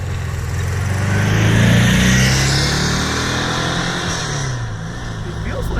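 A 1956 Porsche 356A Coupe with its original engine, driving up a canyon road: a steady, loud engine drone that swells slightly and then eases off, with wind noise over it and no talk.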